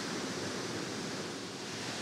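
The waterfall at Foster Falls roars as a constant, even wash of rushing water, loud and unbroken, with no other sounds standing out.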